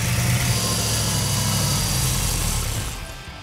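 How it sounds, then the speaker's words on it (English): A 1969 Plymouth GTX car engine runs on an engine run stand at a steady loud idle with a throaty rumble, then fades slightly near the end as it runs out of gas. "So this little engine had to be ran on the engine run stand"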